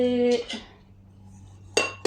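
A metal fry pan for tempering mustard seeds and its lid clank and clink up close in a few sharp bursts, with quiet pauses between the handling.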